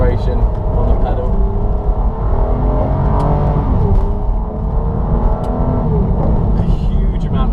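A 2005 Aston Martin DB9 supercar pulls away with a light press of the throttle, its engine a loud, steady drone with rising rev sweeps, heard from inside the cabin with occasional clicks and a voice speaking.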